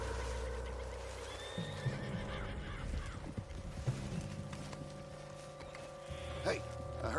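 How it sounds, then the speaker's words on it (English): A spooked horse in the Red Dead Redemption video game whinnies and snorts over a low rumbling game soundscape with ambient music, the horse's calls rising briefly above the steady background. "What's got this horse spook, huh?"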